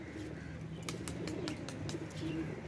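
Neelay pigeon cooing close by, soft low repeated coos over a light background hiss, with a few faint clicks and shuffles.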